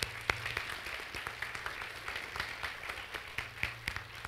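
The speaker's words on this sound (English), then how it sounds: "Let's give her another round of applause." An audience at an academic honors convocation gives a singer another round of applause after her performance of Lift Every Voice and Sing, scattered individual claps rather than a dense roar, moderately faint.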